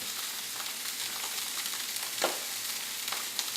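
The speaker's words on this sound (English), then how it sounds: "Let it sear on that side." Steak filets sear in a hot pan with a steady, close sizzle and crackle throughout and a few sharper pops, with no talking.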